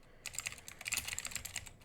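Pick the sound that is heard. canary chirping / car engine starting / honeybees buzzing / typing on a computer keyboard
typing on a computer keyboard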